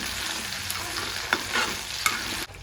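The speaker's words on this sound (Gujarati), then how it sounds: "આ રીતે આપણે 2 થી 3 મિનિટ જેટલું તેલમાં હલાવી નાખશું." Food sizzles steadily in hot oil in a pan while a spoon stirs it, scraping now and then, close and continuous with no talking.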